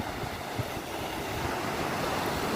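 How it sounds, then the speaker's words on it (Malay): Continuous roar of surf with waves rushing and breaking nearby on an island during a strong southerly windstorm, a broad steady wash of noise with no voices. "anda boleh dengar bunyi desiran ombak"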